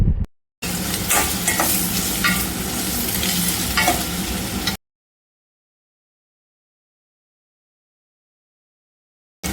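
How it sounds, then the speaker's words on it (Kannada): Spices crackle and sizzle in hot oil for several seconds with some stirring, close by, as the tempering for lemon rice fries, then the sound cuts to silence. "ಚೆನ್ನಾಗಿ ಫ್ರೈ ಮಾಡ್ಕೊಳ್ಳೋಣ"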